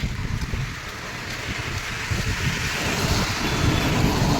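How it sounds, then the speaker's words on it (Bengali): Strong wind gusts and steady rain outdoors on an early morning walk, with sleet falling; a continuous rough rush of wind buffeting the microphone over rain patter, loud and unbroken throughout, growing slightly stronger toward the end. "সকাল সকাল বৃষ্টি তার উপরে প্রচণ্ড হাওয়া"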